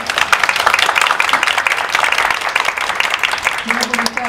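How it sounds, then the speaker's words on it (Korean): At a Liberty Korea Party forum for young YouTubers, an audience breaks into thick, continuous applause close by, with voices mixed under the clapping and a brief tone near the end. "박수 부탁드립니다"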